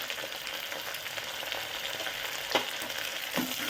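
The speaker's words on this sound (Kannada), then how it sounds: "ಮೆಣಸು ಹಾಕಿ ಒಂದ್ಸಲ ಫ್ರೈ ಹಾಕಿ" Pepper, mint leaves and green chillies fry in hot oil for egg biryani, giving a continuous close sizzle and crackle with a couple of brief stirring scrapes near the end.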